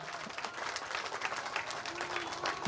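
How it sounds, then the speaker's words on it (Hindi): An audience applauds at a Ganesh festival honour ceremony with steady, dense clapping that runs the full length, and a voice speaks faintly underneath. "एक बार जोरदार ताली बजाओ जाओ।"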